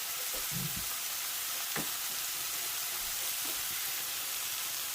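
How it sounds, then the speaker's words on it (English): Soy sauce going into a pan of sizzling mushroom and wheat berry pilaf, giving a steady close frying hiss with a brief splash near the start and a few soft clinks. "I'm going to be putting in a tablespoon of soy sauce"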